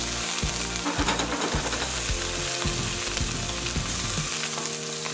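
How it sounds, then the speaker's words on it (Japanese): Potatoes, cut and rinsed in water, sizzle and crackle loudly in a preheated oiled frying pan, with steady frying hiss and repeated low thumps as the pieces are moved and settle in the pan. "温まりましたら、先ほどねカットしてからお水でさらしたじゃがいもを入れていきます"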